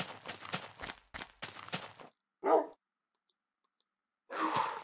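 A dog in the video game Minecraft gives two short, separate bark-like bursts after a stretch of clicks and footsteps, with quiet pauses between them.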